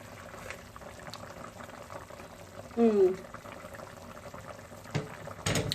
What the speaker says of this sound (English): When I turn it off, it's still going to cook because these pots are very hot to handle.